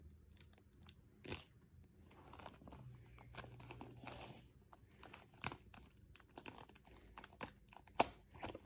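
Small blade cutter slicing through paper, a run of close, quiet crisp scrapes and crunches with sharper snips scattered throughout, alone without talk.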